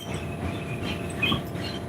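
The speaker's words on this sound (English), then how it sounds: "I'm on the train." Passenger train riding on rails, heard from inside the car: a steady, fairly loud low rumble with faint rolling clatter, no voices.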